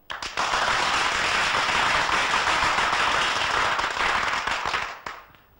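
An audience bursts into dense, loud clapping after a speech, a continuous rattling wave of many hands that holds steady for several seconds, then thins and fades out.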